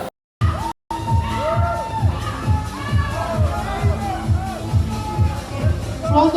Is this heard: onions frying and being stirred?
no